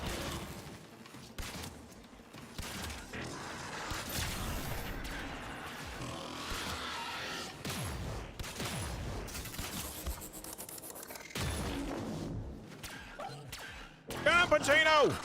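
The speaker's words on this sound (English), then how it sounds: "Shoot him in the butt!" Rapid gunfire and impact bursts from the video game Warframe crackle through a dense, busy mix alongside a heavy enemy unit, with voices talking over the action throughout.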